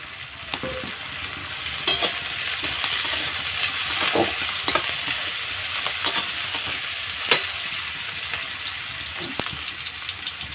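Chopped onion and garlic fry in hot oil after tempering spices for Bengali-style khichuri, a continuous close sizzle broken by repeated scraping and clinking of a stirring spoon.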